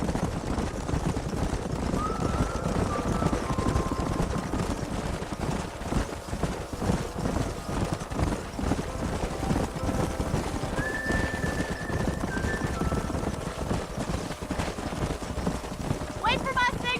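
Horses gallop with steady clip-clopping hooves in Red Dead Redemption, and several whinnies ring out over the running.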